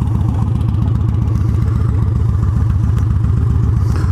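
A Victory Highball motorcycle fitted with a Bassani exhaust idles steadily up close, giving a continuous deep, loping throb with an even rhythm and no talk over it.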